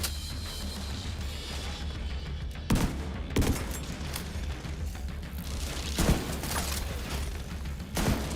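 Shotgun fire in The Division 2 video game, a handful of spaced, punchy blasts at irregular intervals over a steady background of game ambience and mechanical noise, no talking.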